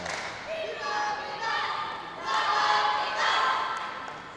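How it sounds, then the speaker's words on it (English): Philippine team supporters cheering for their pencak silat athletes at an Asian championship hall, with bursts of shouted cheers and crowd voices rising and falling, some clapping mixed in. "It's nice to hear team from Philippines cheering on their athletes."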